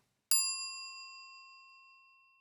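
A phone SMS notification ding: one bright, clean chime that strikes sharply and rings out with a long, slowly fading tail, alone and close.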